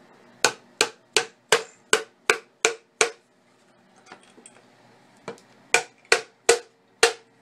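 A hammer taps a small fastener into a canjo to secure its string, making a run of crisp, close wooden-metallic knocks, then a short pause with faint handling, then more taps.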